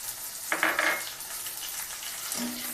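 Turmeric and green chillies fry in a pan with onions, a soft close sizzle carrying a brief clatter of a spoon or lid early on, quiet and without talk.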